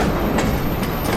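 A short burst of a train rolling out toward the main line on the Bow Line: continuous close rail rumble with faint wheel clatter, no voices.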